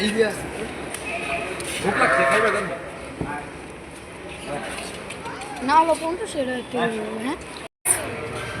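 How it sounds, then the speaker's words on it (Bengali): Large goats at a Qurbani livestock market bleat in short, wavering calls, several in quick succession near the end, over a busy crowd of chattering voices and people talking close by. "ছাগলটা দেখ"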